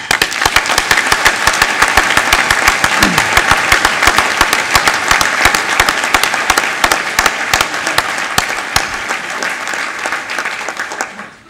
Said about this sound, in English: please join me once again in saluting with our applause the graduates of the United States Naval War College, Class of 2013